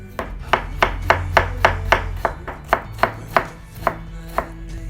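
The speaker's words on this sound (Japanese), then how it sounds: "生姜を千切りにしていきます。" A knife cuts ginger into thin julienne strips on a cutting board, giving a steady, even series of about fifteen sharp, close taps with no voices.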